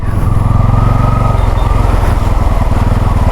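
A motorcycle on a long ride from Beyt Dwarka to Bhuj pushes through deep muddy water on a slippery track, its engine chugging loudly and close in an unbroken throbbing drone.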